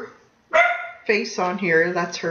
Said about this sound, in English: You can hear her right now looking out the window and barking at everybody.